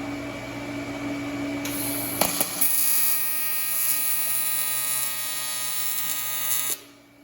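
An Everlast 255 welder with its water cooler attached runs with a steady electrical hum and a high buzzing whine. A sharp click comes early on, and the machine cuts off just before the end.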